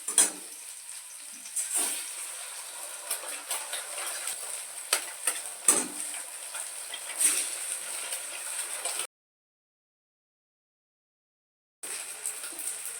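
Onions sizzling in a pan for a cauliflower and egg bhujia, with a steady hiss, scattered stirring clicks and scrapes, and a gap of silence near the end before the frying resumes.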